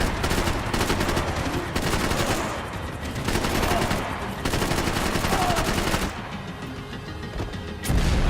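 Heavy gunfire and repeated explosive blasts from a Max Payne 3 shootout where missiles are being fired, dense and loud throughout, with a short pause before another burst near the end.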